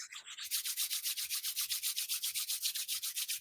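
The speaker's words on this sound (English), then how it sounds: "So rub your hands together, make a little heat." Hands rub briskly together to build heat, giving a fast, even run of swishing strokes that stays loud and close throughout, with no voices.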